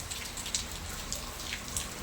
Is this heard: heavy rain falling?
yes